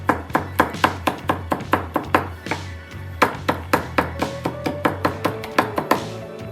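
A knife chops garlic on a cutting board in a rapid, steady run of sharp close taps, with a short pause midway before the chopping resumes at the same pace.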